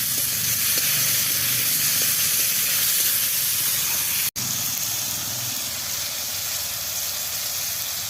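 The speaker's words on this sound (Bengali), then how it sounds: "এবার আমি টমেটো কাটা দিয়ে দেবো।" Chopped tomatoes added to a hot pan with fried onions and chillies for a winter koi fish curry, giving a steady, loud hiss and sizzle that runs unbroken, with one brief drop partway through.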